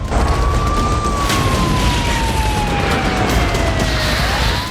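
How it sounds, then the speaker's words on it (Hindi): An air raid alert siren in Ukraine wails steadily, slowly falling in pitch over a dense roar of wind or crowd noise, sounding distant and continuous. "बीती रात पूरे यूक्रेन में रेड अलर्ट सायरन बजता रहा"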